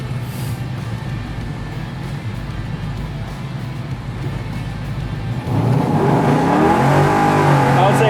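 A 1967 Camaro restomod launching hard with tires spinning, a loud close roaring engine and tire noise that surges heavier partway through, with voices faintly underneath.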